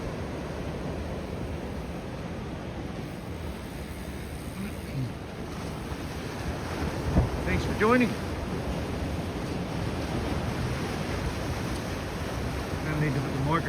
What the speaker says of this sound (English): It's nice to hear the sound of the waves in the morning, isn't it?